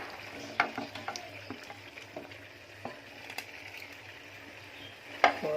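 Chicken sizzles in ghee gravy for an Afghani chicken curry, a soft steady frying hiss broken by scattered clinks and scrapes of stirring in the pot.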